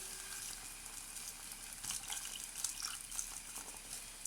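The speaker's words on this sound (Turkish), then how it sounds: "Şimdi sosuma sütümüzü ekliyoruz." Milk is poured into a sizzling sauce in a pan, giving a gentle liquid pour over a soft frying hiss with a few crackling pops and bubbles.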